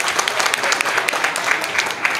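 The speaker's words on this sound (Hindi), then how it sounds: "तालियां व्हाट्सएप ग्रुप के लिए" Audience applause at a Muslim League (N) workers' convention in Faisalabad, a steady dense clapping that fills the whole moment at close range.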